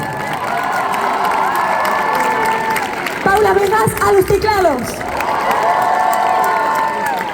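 Concert crowd at an A Coruña show cheering and applauding the band as the members are introduced, a steady loud wash of cheers with a singer talking over it throughout.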